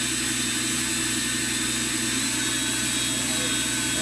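A Walter Helitronic Mini Power CNC tool grinder spindle runs steadily at 4,000 RPM, producing a continuous, even mechanical whine and hum with a broad hiss and no pauses.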